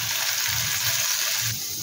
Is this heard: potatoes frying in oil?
yes